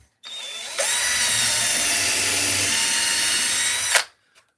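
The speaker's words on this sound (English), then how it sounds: "Drill one at the top," Close, loud power drill boring into a block of wood about an inch from its top, revving up then running steadily for a few seconds before stopping abruptly, with no voices over it.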